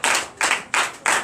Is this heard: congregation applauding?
yes